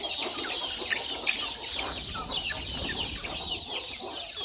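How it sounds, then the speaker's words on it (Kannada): Native country chickens on a small farm cluck and chatter continuously, many birds overlapping at close to moderate distance in a busy, steady outdoor din. "ಪ್ಯೂರ್ ನಾಟಿ ಕೋಳಿ"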